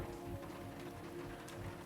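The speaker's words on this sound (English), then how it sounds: "Do you hear that? Rain." Steady rain falls with a soft, continuous patter of drops on a surface, faint and even throughout with no voices.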